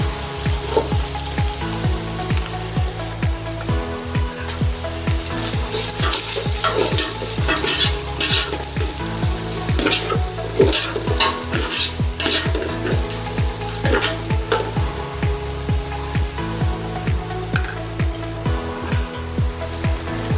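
Onions frying in a biryani pot sizzle steadily while being stirred, with scraping and clinking of the spoon against the pot, close up and without talk.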